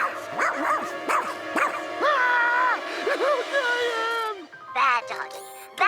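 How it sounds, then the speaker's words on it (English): A cartoon dog in a Garfield episode lets out a rapid series of yips, whimpers and short barks, loud and close, with jingling and a voice talking in between. "No barking allowed."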